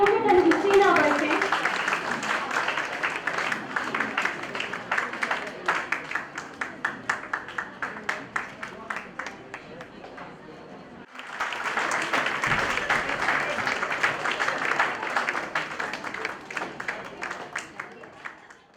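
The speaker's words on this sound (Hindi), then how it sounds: "कृपया से तालियों में कंजूसी ना बरतें।" Sustained audience applause at a Hindi-language formal event honoring a TV report, steady dense clapping with a brief dip mid-way before resuming loudly to the end.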